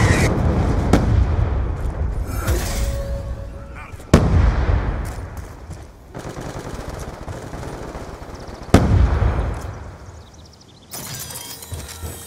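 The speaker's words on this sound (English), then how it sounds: "Hellstorm missile inbound." Hellstorm missile strike in Call of Duty Black Ops II: several loud, sharp blasts about every four seconds, each trailing off into rumbling debris, with crackling gunfire and game voices between them.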